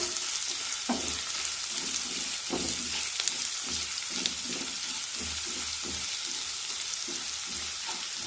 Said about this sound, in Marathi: कांदा पण थोडासा परतून घेऊया